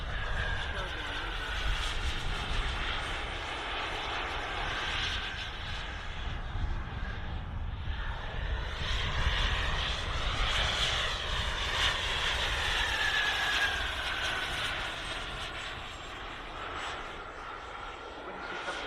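Model aircraft turbine engine at an outdoor airshow, a steady loud jet whine and roar that swells and fades as the plane passes, with voices talking over it.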